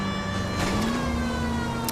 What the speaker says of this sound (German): Ich habe Sirene an, also ihr müsst Platz machen.